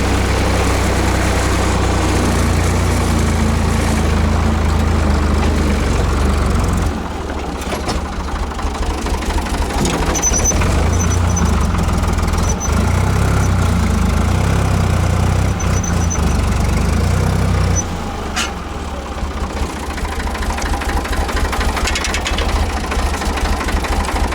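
A motor working on a soil-hauling job runs close by with a loud, continuous low rumble that shifts slightly in tone and level over about twenty-four seconds.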